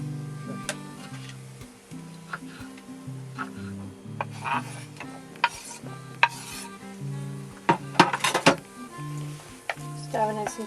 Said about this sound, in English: Stirring in some chopped tomatoes.